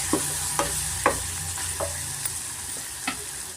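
Ginger garlic paste with turmeric sizzles steadily in a hot pan, with sharp scraping spatula stirs breaking through the frying hiss every half second or so.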